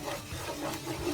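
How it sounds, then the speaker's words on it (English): Steady scraping and rubbing of a spoon stirring Isi Ewu, a thick goat-head pepper soup, in a cooking pot, continuous and close with a rough, grainy texture and no talking. "keep stirring."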